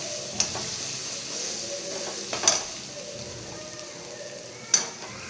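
Onions sauté in hot oil with a continuous soft sizzle, broken by a few sharp clinks of a spoon stirring against the pan.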